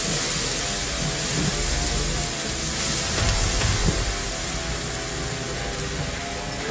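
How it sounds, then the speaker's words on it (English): A slab of meat searing on a grill gives off a steady, loud, broadband sizzle that hisses continuously without letup. "Now hear that? Now we're going to sear it."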